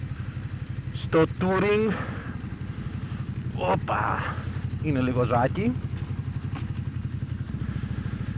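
A Ducati Desert X with its stock exhaust rumbles steadily while being ridden, a low even engine drone running under a man's occasional speech, close and continuous.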